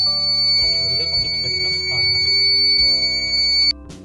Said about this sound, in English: When the water gets inside the library, a beep sound will start to make noise